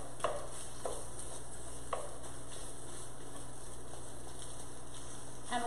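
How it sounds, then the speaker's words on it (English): Ground meat browns in a Dutch oven, a steady low sizzle with occasional scraping taps as a utensil breaks it up, soft and close with no talking. "So I'm gonna break all of this up so that it will brown nicely."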